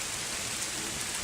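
Sudden heavy rain in English weather pours down steadily, a dense continuous hiss of drops hitting surfaces all around, with no speech.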